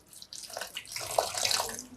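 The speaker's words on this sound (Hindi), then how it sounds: "स्ट्रेनर में इसका पानी निकाल लेते हैं। ऊपर से हम इसमें ठंडा पानी डाल देंगे" Cold water runs and splashes over boiled noodles in a strainer while preparing chicken chow mein, a steady close pouring wash with small spattering bursts, no talking.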